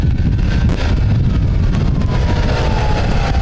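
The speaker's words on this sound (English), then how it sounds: "It's pretty windy today" Steady wind buffets the microphone outdoors at a cycling race, a loud continuous rumble with faint passing traffic underneath and no talking.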